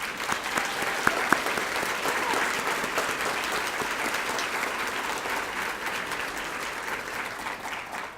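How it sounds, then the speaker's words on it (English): An audience at an awards luncheon gives a sustained round of applause for school district teachers and employees, a dense, even wash of clapping from many hands filling the room for about eight seconds. "can we please give them a round of applause?"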